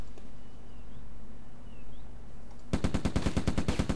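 Automatic gunfire in the video game Silent Storm erupts after a quiet stretch of low ambient hum, a loud, steady burst of rapid, evenly spaced shots that runs to the end.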